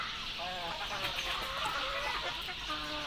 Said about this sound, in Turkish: tavuklarımız yerlerine gelmiştir